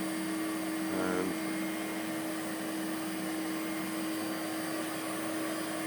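An IH milling machine fitted with a Microkinetics CNC system runs test motions. It makes a steady, even hum with a constant tonal whine and a brief swell near the start.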